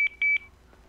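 A phone ringing in GTA V, heard as three quick electronic beeps in a fast pulsed pattern, clear and close, followed by a short quiet tail.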